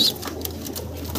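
Pigeons at a pigeon sale, including blackless shirtin birds, coo faintly amid steady background hum and low murmuring, in a short stretch that is neither clear nor continuous.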